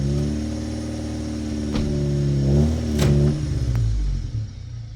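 A loud tow truck engine hums steadily and revs up a couple of times, straining under load while pulling a truck out from under a Toyota V8 engine in a junkyard, with a few sharp clanks.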